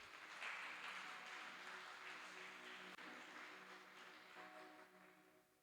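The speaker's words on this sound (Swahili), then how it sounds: "Mpe Yesu makofi mazuri." A church congregation claps together in a sustained, even patter of applause that is faint and distant and holds steady for several seconds before tapering slightly.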